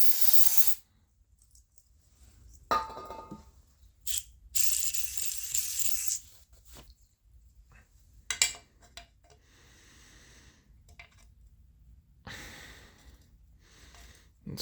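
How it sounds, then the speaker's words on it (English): Brake cleaner sprayed onto a bearing case in a workshop, bursts of hissing spray separated by quiet pauses, close and moderately loud. "I'm gonna shoot this with some brake cleaner"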